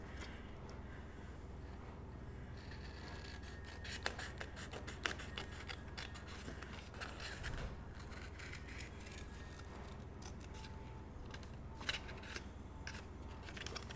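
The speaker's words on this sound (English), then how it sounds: "I'm just going to cut a couple more ears here" Scissors snip through paper while rabbit ears are cut out for an Easter craft, a close run of crisp, irregular cuts and rustles with brief pauses over a quiet background.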